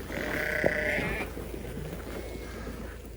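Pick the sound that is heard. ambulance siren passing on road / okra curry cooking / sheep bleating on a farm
sheep bleating on a farm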